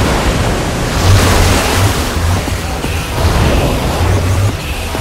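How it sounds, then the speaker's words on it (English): Water gushing and rushing out of a mechanism in the Minecraft Story Mode video game, a continuous loud roaring wash of water that swells and fades slightly throughout, with no voices over it. "I don't know how much water this thing is gonna kick out"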